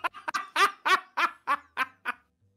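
A goose honks about eight times in a quick, harsh, evenly spaced series, close and loud, with nothing else heard around it.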